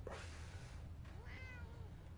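A cat in the Fallout 4 video game lets out a short meow after a brief soft noise, quiet and close over a constant low hum.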